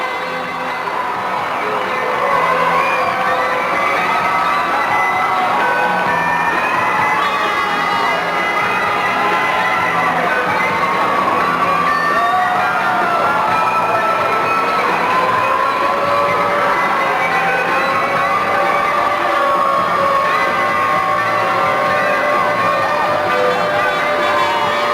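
Crowd of fans at a 1989 indoor soccer championship game cheering loudly and continuously, with shouts and whoops echoing through the arena for the whole stretch.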